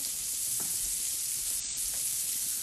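Vegan burger patties sizzle in a frying pan, a quiet steady hiss with a couple of faint stirring clicks, no voices.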